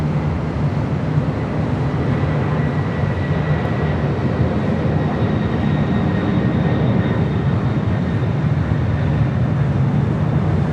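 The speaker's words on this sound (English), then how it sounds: "We do have that MD-11 now rolling down there on the south side" An MD-11 airliner rolls down the runway on the south side at LAX, a loud, steady broadband engine roar and rumble holding evenly throughout, with no voices.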